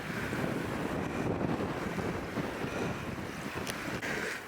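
Strong wind buffets the microphone on the exposed top of Conic Hill above Loch Lomond, a steady loud roar with rumbling gusts throughout and no talking.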